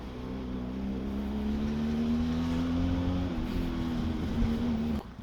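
A close motorcycle engine holds a steady, loud drone with slight throttle changes, briefly easing near the end, with no voices.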